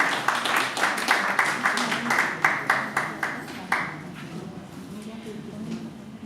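Audience at a Hindi poetry gathering (kavi sammelan) claps to welcome a poet, a near, fairly loud run of distinct claps in a steady rhythm that thins out and fades toward the end.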